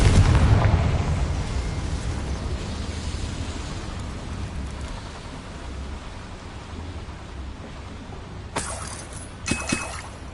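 A Confringo blasting spell detonates against a boiler in Hogwarts Legacy, a loud rumbling blast at the start that decays into a long roaring tail, followed by two short sharp crackles near the end.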